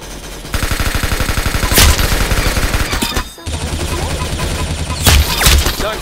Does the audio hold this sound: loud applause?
no